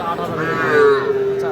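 Two young bull calves low at a crowded cattle market in Raniganj, a single drawn-out moo rising over the background chatter of people talking nearby.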